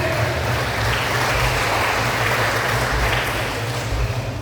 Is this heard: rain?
no